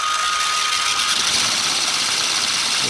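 Electric motor of a WPL C24 RC truck with metal upgrades under proportional throttle, a loud, steady high-pitched whine held close and continuous.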